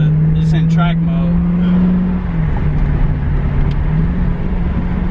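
A 2019 Dodge Challenger Scat Pack in track mode with traction control off roars under hard acceleration, a loud steady engine note with tire spin, while people talk over it.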